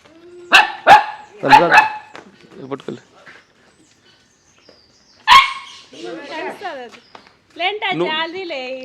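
A dog lets out several sharp, loud barks close by, a quick cluster at first and then a single bark after a pause, with people talking and coaxing in between.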